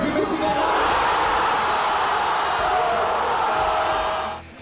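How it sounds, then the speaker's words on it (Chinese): Argentine football fans roar and cheer loudly in a big crowd watching a World Cup semi-final broadcast on a large screen, a continuous dense wall of voices that holds steady before fading out at the end. "隔着大屏幕观看转播的阿根廷球迷大声欢呼"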